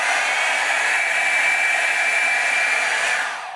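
Blow dryer on its low setting, from a comparison of a Revlon One Step and a Conair Infiniti Pro, giving a steady, loud whooshing hiss that holds even for about three and a half seconds, close to the microphone with no talk.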